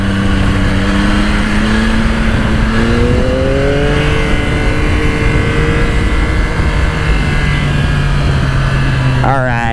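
A 2025 Yamaha YZF-R9 sport motorcycle engine droning steadily through corners, its pitch slowly rising and falling under constant wind roar, with a quick rev blip near the end.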